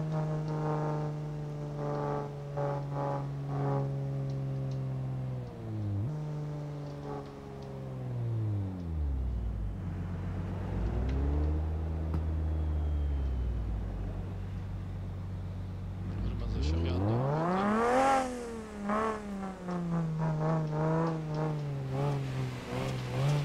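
Simulated Nissan GT-R engine in Euro Truck Simulator 2 holds a deep steady drone, then sweeps low through a long revving dip before climbing sharply into a loud, rising high-revving whine near the end, with no talking.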